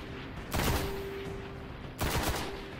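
Gunfire in the video game Destiny: two short, dense bursts of rapid shots about a second and a half apart, loud and close, over steady game background noise.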